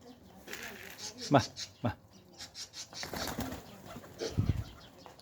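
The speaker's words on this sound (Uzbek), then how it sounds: "Kaptarlar bugun uchmaganiga juda cho'chiyapti." Pigeons flapping their wings in short bursts close by, mixed with soft cooing and a person speaking over them.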